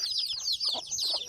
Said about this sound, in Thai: โอ้ไก่ตัวนั้นเสียบบ่ออกจากขาเลย